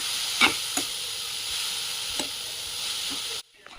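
Grated raw mango and coconut frying in a hot oil tempering, a steady close sizzle with a few sharp spoon scrapes and stirs, ending abruptly.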